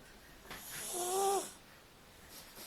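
A cat snores once, a faint, close, rasping breath that rises and fades over about a second in an otherwise quiet room.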